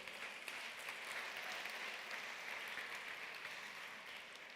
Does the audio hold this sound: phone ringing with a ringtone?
no